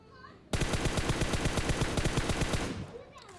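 Rapid automatic gunfire from a rifle fitted with a 4x scope in the PUBG mobile game, a loud sustained burst of about two seconds of evenly spaced shots, close and dominant, with faint game sounds before and after.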